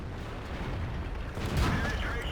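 A tank destroyer's main gun in World of Tanks fires a tracking shot at an enemy tank's treads, heard as one muffled, rumbling blast rising over steady battlefield noise.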